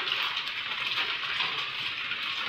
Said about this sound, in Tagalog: napansin nyo, lakas ng ulan.